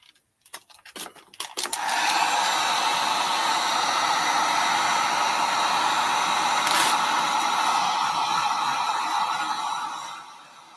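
A drying tool, like a hair dryer, blows steadily over a distressed magazine image layer. It starts with a few clicks and bumps, then runs as a loud, constant whoosh for about eight seconds before winding down.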